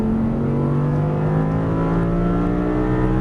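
An Audi R8 V10 on a track at Exotic Racing in Las Vegas roars at full throttle, a loud, steady, rising engine drone close by with no break or talk.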